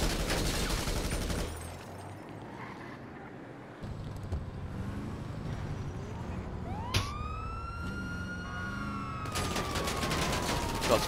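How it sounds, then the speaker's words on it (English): A GTA Online police chase, with dense gunfire crackling under a wailing police siren that rises and sweeps mid-clip, and sharp shots cutting in near the end. "Shots fired."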